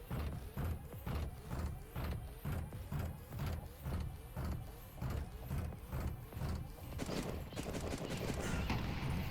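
Missile launchers firing in a video game, heard as a fast, regular string of close, punchy launches roughly every half second, fairly faint overall, giving way to a louder hissing rush near the end.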